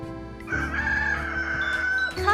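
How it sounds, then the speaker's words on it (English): A rooster crows a loud, drawn-out cock-a-doodle-doo, heard close and alone, with a rising flourish at the end. "A rooster makes a cock-a-doodle-doo sound."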